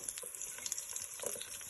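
Chopped onion frying in hot oil for an okra curry, a steady close hiss and crackle of sizzling without any talk.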